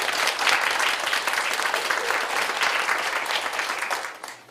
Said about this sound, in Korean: 여러분들 우리 환영하면서 박수 한번 하겠습니다